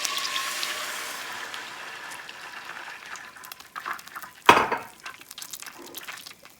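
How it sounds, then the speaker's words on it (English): Whipping cream being poured into melted butter in a saucepan on a medium stove: a soft, steady liquid pour with a sharp metallic clank of a pan or utensil partway through, fairly quiet and close. "Into this, we're going to add our whipping cream."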